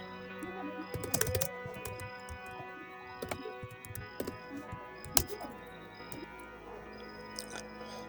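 Keys clack on a computer keyboard at close range in quiet, uneven bursts while code is typed, with a few louder single key strikes between the runs.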